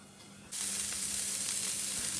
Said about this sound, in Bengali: আমি তাড়াতাড়ি করে ফ্রাইড রাইসের সবজিগুলোকে ভেজে নিচ্ছি